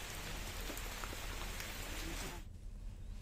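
Heavy, continuous rain pours down in Bilaspur district, Chhattisgarh, a dense steady hiss of drops on surfaces that stays loud, then drops sharply in level near the end.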